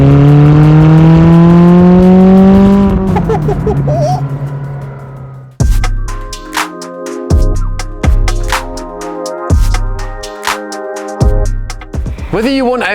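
A McLaren 620R sports car accelerates hard, its engine rising in a loud revving whine before sharp gearshifts break it into repeated surges of close, aggressive engine noise.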